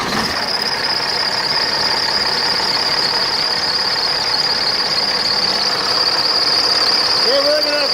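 A car engine idles steadily during a charging system test, a loud continuous hum with a high whine running on top and a brief rising squeal near the end.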